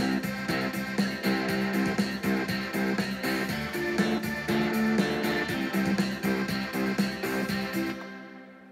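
Yamaha Genos arranger keyboard playing a saved custom style assembled from parts of different styles: a full band backing with drums, bass and layered chords, steady and loud, then cutting off abruptly at the end, with no talking.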